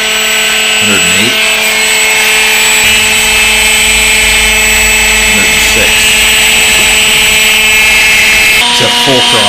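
An RC motor driven by a Hobby King Red Brick 30A ESC runs at full throttle without a propeller, giving a steady, loud, high-pitched whine throughout while someone talks over it.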